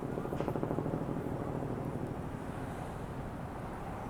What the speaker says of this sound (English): So we hear the helicopters in the air.